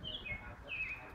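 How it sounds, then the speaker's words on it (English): A bird calls while attacking a baby squirrel, giving a few faint, thin whistled chirps over low background noise. "there's a bird attacking a baby squirrel"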